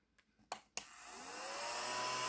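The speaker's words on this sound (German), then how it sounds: "Diesen Staubsauger habe ich mit dazu bestellt." Battery-powered handheld vacuum cleaner, ordered as part of an online haul, starts after a couple of clicks and then runs with a steady, fairly quiet whine that swells slightly over a couple of seconds, heard alone.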